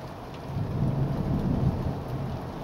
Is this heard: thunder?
yes